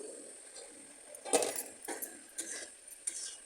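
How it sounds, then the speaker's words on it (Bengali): Lid lifted off a cooking pot of simmering fish-head curry, a bright metallic clink followed by a few lighter clatters and rattles over a soft bubbling hiss. "এবার আমি ঢাকনাটা খুলে দেখব"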